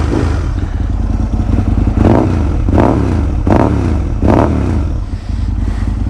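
An Aprilia RSV Mille R V-twin motorcycle engine idling roughly with a low, lumpy throb, punctuated by three or four short blips of the throttle that rise and fall, loud and close, with no talking.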